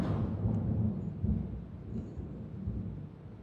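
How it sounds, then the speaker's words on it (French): Thunder rumbling during a lightning storm, a continuous low, heavy roll with a few stronger swells, close and fairly loud throughout, with no voices. "il y a des éclairs, là, je vais me faire électrocuter"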